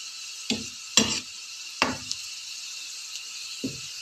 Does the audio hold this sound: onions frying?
yes